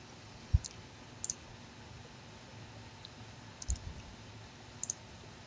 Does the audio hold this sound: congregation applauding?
no